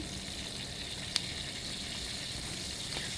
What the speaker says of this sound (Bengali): তো ভালো করেই ভেজে নেবো